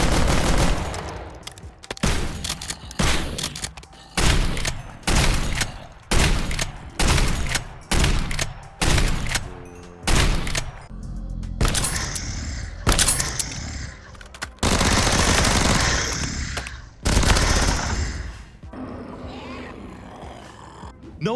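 Guns firing in a Minecraft zombie mod, loud repeated single shots in a steady, evenly spaced rhythm, followed by heavier sustained bursts and growling monster roars.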